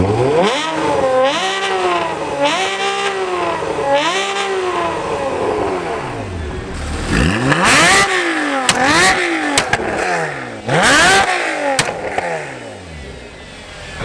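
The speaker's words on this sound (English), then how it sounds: "Extremely sorry for the engine noise" A Ferrari engine revs hard in repeated loud bursts at a supercar show, pitch sweeping up and down, with sharp crackling pops from the exhaust between revs.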